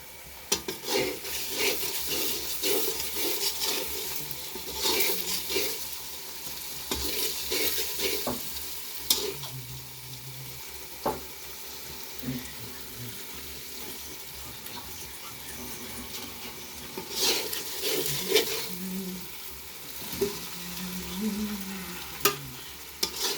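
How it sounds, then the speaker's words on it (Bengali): Chicken pieces frying in spiced curry in a pot are stirred over and over, a continuous sizzle under repeated scraping and clattering of a spoon against the metal, with no talk. "মাংস দিয়ে নাড়াচাড়া করেন"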